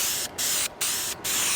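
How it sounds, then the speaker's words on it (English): Aerosol can of wood distressing spray hissing in three sustained bursts with brief gaps between them, loud and close, no voices. "let's start off with the distressing spray."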